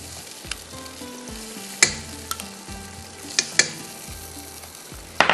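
Masala with yogurt and tomatoes fries in a pot, a crackling sizzle broken by sharp spoon clinks and stirring scrapes against the metal, close and moderately loud with no speech.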